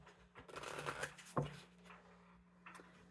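A brief riffle of cards being shuffled close by, a soft rapid flutter ending in a sharp snap, then quiet.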